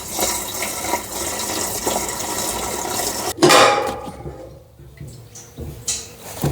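Petrol splashes and trickles as it is poured into the fuel tank of a 1991 500cc quad, a steady liquid wash with a sharp splash partway through, fading to quieter dribbles.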